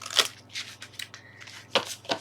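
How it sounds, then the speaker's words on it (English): A deck of tarot cards being shuffled up close, with several quick riffling bursts and soft papery slides separated by brief pauses, mostly alone in a quiet room. "Let's give it one last shuffle."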